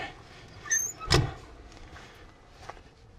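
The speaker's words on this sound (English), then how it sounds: "We'll close the door." A semi truck's door shuts with a single solid thud outdoors, heard while parked at a brake check area in cold, snowy weather, over low background rumble and faint scattered noises.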